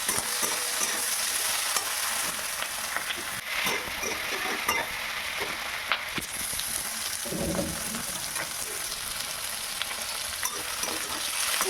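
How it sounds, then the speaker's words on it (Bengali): Fish frying lightly in a pan with ground roasted cumin, a steady broadband sizzle with scraping stir strokes throughout, close and fairly loud, no talking. "এবারে এটা আমি হালকা ভেজে নেব।"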